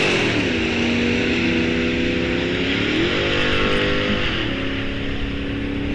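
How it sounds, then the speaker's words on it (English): A drag race car at a racing strip roars loud and steady, its engine tone climbing and then dropping twice as gears change unevenly, with one shift breaking the pull. "Sounded like somebody missed a shift up there."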